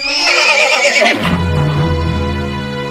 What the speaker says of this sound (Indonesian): Kuda yang menarik kereta pun seketika panik dan hilang kendali.